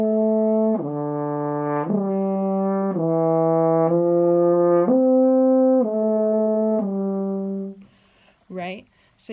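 A French horn slurs a smooth line of sustained notes, each about a second long in an even rhythm, followed by a brief bit of talking.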